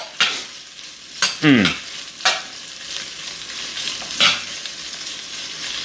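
Chorizo fries in a pan with a soft, steady sizzle broken by several sharp scraping stirs of a utensil, close up with no talk.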